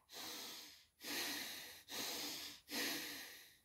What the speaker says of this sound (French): J'inspire et j'expire par les narines.